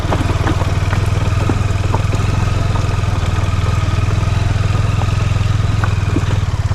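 A motorcycle climbs an off-road forest track, its engine droning loud and steady with a pulsing low throb, close to the microphone, with scattered clatter from the rough ground and no talk.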